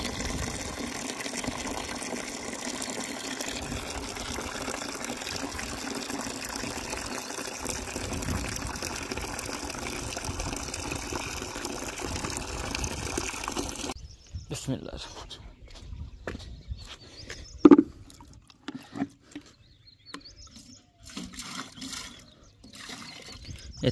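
Water gushes steadily into a container for about fourteen seconds, a continuous close rush, then cuts off, leaving quieter scattered knocks and movement, with voices talking at points.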